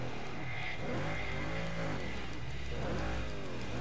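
Steady loud car engine roar in Burnout Paradise, revving with rising and falling pitch sweeps throughout, continuous and close.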